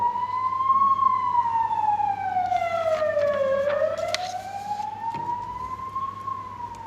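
An ambulance siren wails, sweeping slowly down and back up in pitch, fairly loud and passing steadily, with faint traffic noise underneath.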